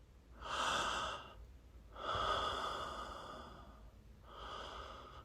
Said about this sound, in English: Inhale and exhale deep like that.